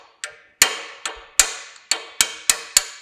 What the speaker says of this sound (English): So I've got a punch here, hammer.